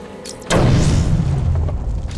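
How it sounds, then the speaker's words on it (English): A heavy explosion bursts suddenly, loud and near, as explosive gel detonates against a Titan container in the video game Batman Arkham City, then rumbles on with a long dense decay. "The only way to destroy it is to use explosive gel."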